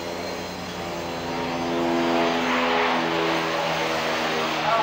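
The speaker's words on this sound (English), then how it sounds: "Apparently we're being buzzed by a helicopter." A helicopter flying low overhead beside a river, a steady droning engine and rotor hum that swells slightly louder midway, with some talking over it.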